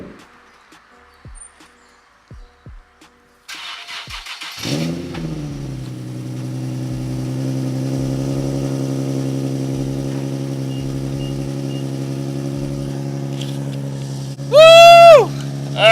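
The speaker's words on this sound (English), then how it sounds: "Finally, I have an exhaust on my car." A Nissan 370Z fitted with an ISR single exit exhaust cranks over after a few faint clicks, catches, and settles into a loud, steady idle with rumbling blips, ending in two sharp high revs close by.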